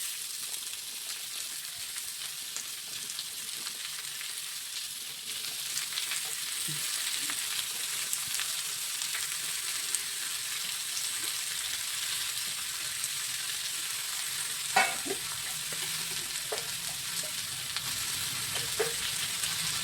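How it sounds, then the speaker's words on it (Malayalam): Chopped ivy gourd frying with mustard seeds in a pan gives a steady, close hiss of sizzling oil across the whole stretch, broken by a few brief pops and scraping stirs, with no voices. "കടുക് പൊട്ടി വരുമ്പോൾ നമ്മൾ അരിഞ്ഞു വെച്ചിരിക്കുന്ന കോവയ്ക്ക് ചേർത്ത് കൊടുക്കണം"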